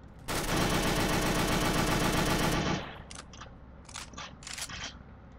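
A UMP submachine gun fires in a Left 4 Dead 2 weapon mod as a loud, rapid automatic burst lasting over two seconds, followed by a few sharp clicks and mechanical handling noises as it falls quiet.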